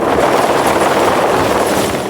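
Rescue helicopters flying during the 1990 Charleville flood evacuation, one of a fleet of thirteen lifting locals off rooftops: a loud, steady rotor and engine roar fills the whole stretch, with no speech.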